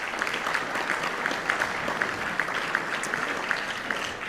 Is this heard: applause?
yes